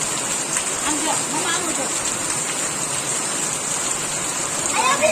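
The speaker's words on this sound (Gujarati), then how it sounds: "વરસાદે જો ધોધમાર ચાલુ થઈ ગયો છે" Heavy downpour of monsoon rain, a dense continuous hiss of drops striking surfaces close by, steady and loud with faint voices audible beneath it.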